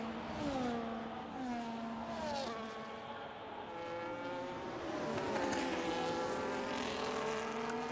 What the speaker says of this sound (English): with a lot of cars about to start their laps